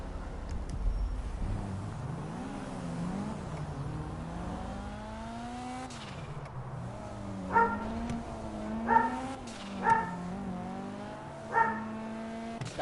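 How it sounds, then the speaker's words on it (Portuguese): A dog barks four times in GTA 5, short sharp barks spaced about two seconds apart, over a continuous car engine that revs and shifts pitch throughout. "Cachorrinho chato, viu?"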